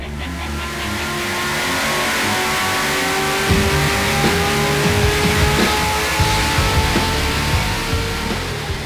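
A car engine fitted with a Comp Cams LSR camshaft runs on a dyno, rumbling loud and steady, then climbing in pitch as it revs hard through the pull, with a choppy lopey idle underneath.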